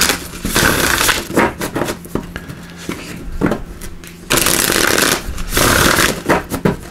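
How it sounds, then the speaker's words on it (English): A tarot deck, the Into the Lonely Woods cards, is shuffled in close bursts of riffling and slapping, loud, with short pauses between rounds. "So let me just give these a shuffle."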